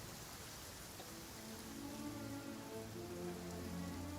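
Heavy rain downpour in the video game Genshin Impact, a steady dense hiss of rainfall on surfaces with a faint low musical tone beneath, continuous throughout.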